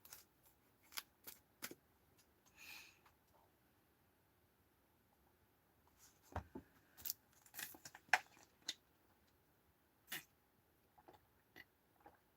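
Tarot cards being shuffled by hand, a quiet series of short crisp riffling and slapping bursts with irregular pauses, close to the microphone in a quiet room.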